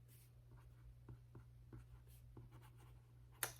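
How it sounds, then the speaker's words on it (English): A pen writes on paper in quiet, close, soft scratchy strokes, with short irregular scribbles and a brief sharper tap near the end over a low background hum. "I'm gonna write this down."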